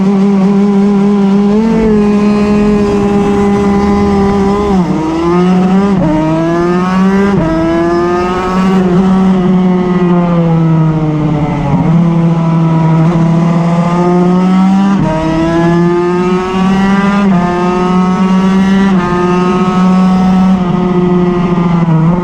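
350cc racing motorcycle at Oulton Park, its engine loud and close, climbing through the gears in repeated rising wails with brief dips at each shift over about twenty seconds.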